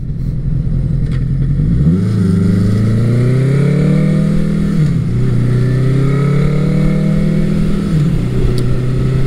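A Honda CB900C motorcycle on a test ride, its engine loud and close, rising in pitch as it accelerates, dropping at gear changes, then climbing again. No one speaks.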